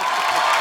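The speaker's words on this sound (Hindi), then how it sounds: "तालियां।" Audience applause and cheering from a comedy show crowd, a brief dense wash of clapping held at steady loudness.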